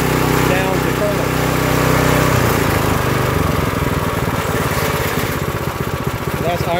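Small gasoline engine of an Earthquake Victory rear tine tiller dropping from full throttle to a low idle, its buzzing putter settling into a steady lower chatter, close up, with someone talking over it.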